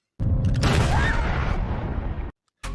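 A single loud, sustained blast of noise lasting about two seconds, like a gunshot with heavy roar, cut off abruptly, followed by a brief burst.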